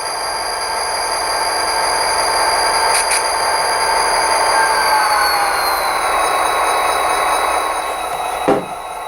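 An Athearn Genesis GP40-2 model diesel locomotive plays sound from a Soundtraxx Tsunami 2 decoder. It gives a steady electronic engine hum with high whining tones that glide lower partway through, and a short clunk comes near the end.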